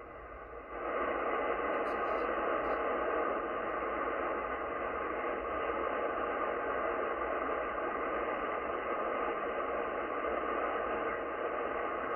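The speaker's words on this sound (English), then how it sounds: "kind of a white noise thing." Broad, steady white-noise-like hiss on the shortwave band near 17 MHz, received on a Yaesu FTdx10 with an end-fed antenna, rising after a brief quiet start and holding level throughout with a few faint blips.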